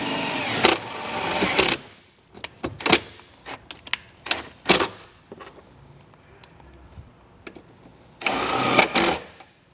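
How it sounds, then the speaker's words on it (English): Self-tapping screws driven into the mounting area for a trailer brake controller on a 2023 vehicle: short whirring bursts of a power driver, a few quick clicks and taps between them, close and fairly loud. "We'll take a self-tapping screw and run one down on each side."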